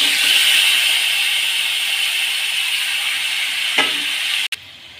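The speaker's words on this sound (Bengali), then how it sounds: "এই মশলা মাখানো চিকেনটা সব দিয়ে দিচ্ছি।" Marinated chicken goes into a pan with fried onions, setting off a loud, steady hiss of frying and a brief scrape, before the sizzle suddenly drops away as a lid or plate is set over it.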